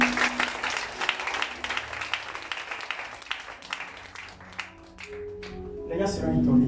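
A worship congregation acclaims the Lord with a long burst of rhythmic clapping and applause, dense and close, with voices mixed through it and louder singing and cheering swelling near the end.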